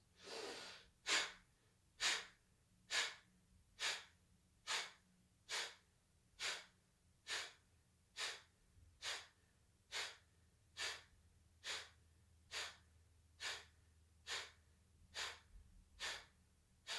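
Kriya breathing exercise with short, sharp exhalations through the nose, a regular train of about eighteen forceful puffs spaced roughly a second apart, close and clear with no talking over them.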